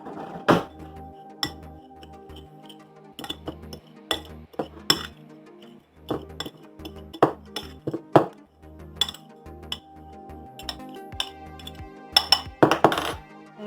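A utensil clinks against a bowl while cheese mixture seasoned with seasoning salt and garlic is stirred, giving irregular sharp taps and scrapes with short pauses between bursts.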